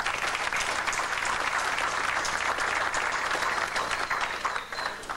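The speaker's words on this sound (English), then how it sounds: "Could we please give our outside guests a round of applause?" An audience inside a correctional institution applauds outside guests at an orchestra event, giving a steady, dense round of clapping that holds for about five seconds before tapering slightly.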